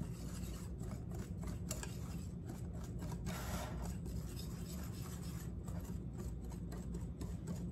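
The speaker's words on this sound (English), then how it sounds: "we are going to add in the rest of our sugar mixture. And we are just going to whisk that up to combine." Quiet, steady scraping and rubbing as a sugar mixture with slightly hardened brown sugar is whisked together for a peach cobbler, a soft continuous rasp with no talking.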